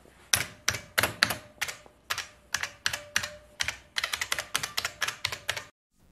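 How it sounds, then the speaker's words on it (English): Typing on an IBM 5155 portable computer's Model F keyboard with capacitive buckling spring switches: a close, crisp run of loud clicky keystrokes in uneven bursts, quickening toward the end, with a faint steady hum beneath and no talking. "With its fantastically clicky capacitive buckling spring switches,"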